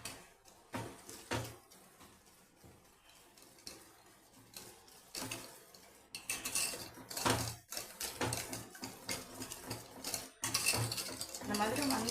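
A utensil scrapes and taps steadily around a bowl of cake batter, mixing it with cardamom-ground sugar, in uneven rhythmic strokes that grow louder and busier partway through.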